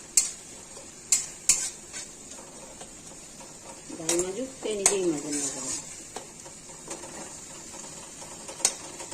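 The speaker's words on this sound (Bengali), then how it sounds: "এইভাবে মশলা কষানোর সময় লো ফ্লেমে করবেন, কড়াইটাও পুড়বে না" Spices stir-fried in a kadai on a low flame, a spatula scraping and clinking against the pan in close, irregular strokes over a faint sizzle, with a brief voice in the middle.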